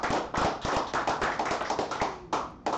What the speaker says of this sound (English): Let's give a big round of applause for our hosts, Teddy and Fiona.